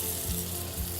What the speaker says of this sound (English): Once you hear that sizzle, you know you did it right.